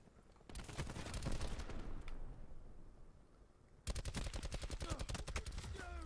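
Two long bursts of rapid automatic gunfire in Batman: Return to Arkham Asylum, close and loud, separated by a fading rumble before the second stream of shots begins.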